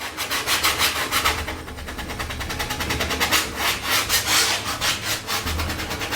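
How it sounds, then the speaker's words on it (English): A paintbrush scrubbing acrylic paint onto canvas, a close, continuous rhythmic rasping of bristles dragged back and forth across the surface, with no talking. "scrubbing, just not really hard, but just enough to get some color to come off the brush onto the canvas"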